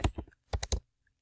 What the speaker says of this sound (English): we're going to come here and type in dividends